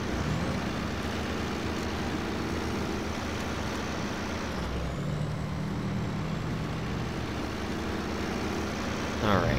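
Heavy truck grinding steadily through mud in the off-road driving game SnowRunner, a loud continuous engine drone with low rumble running unbroken throughout, no talk over it.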